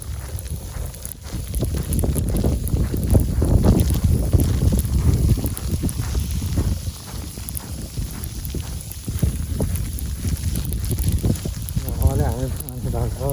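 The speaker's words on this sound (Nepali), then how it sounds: "हावा आयो, हावा।" Strong wind roars during a heavy snowfall, a continuous loud rushing and buffeting against the microphone that swells and eases throughout, with a voice talking over it.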